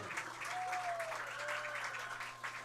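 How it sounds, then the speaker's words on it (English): A crowd at a high school football game between Bellevue and Jackson County applauds the senior cheerleaders, a steady, dense wash of clapping from the stands that lasts throughout. "Let's have a round of applause for our senior cheerleaders, Brooke Isaacs."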